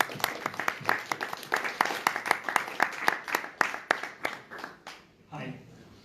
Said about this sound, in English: Maybe one round of applause for Edward.